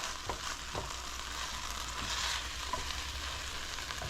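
Ground meat browning in a pan for taco filling, a continuous close frying hiss with occasional soft scrapes of stirring and no talking.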